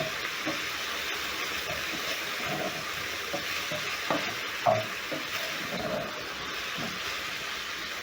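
Chicken stirred through a soy sauce mixture in a hot pan, a continuous sizzle with intermittent spatula scrapes and a sharper knock near the middle, no talking.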